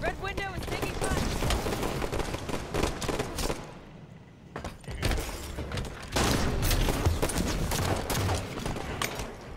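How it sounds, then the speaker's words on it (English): Gunfire in a Halo multiplayer match, rapid bursts of shots and explosive effects that are loud and close, dropping briefly before resuming, with game announcer callouts and player voices over them. "Red window is taking fire."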